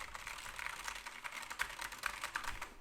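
Rapid clicking of a SteelSeries Apex Pro mechanical gaming keyboard, close and fairly crisp, keys struck in a quick uneven patter with a few louder taps.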